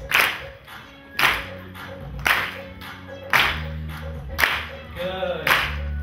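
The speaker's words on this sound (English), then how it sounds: "we're adding a clap to it" A group claps hands together in a steady rhythm, six sharp claps spaced about a second apart, with a musical backing underneath.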